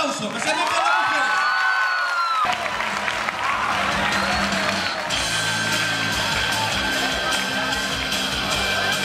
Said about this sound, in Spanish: Que se escuche más fuerte ese aplauso